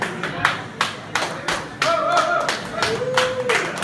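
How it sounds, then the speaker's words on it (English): Clapping from a small audience at a startup pitch event, a sparse burst of separate claps with a voice speaking over it. "me the round of applause for these guys."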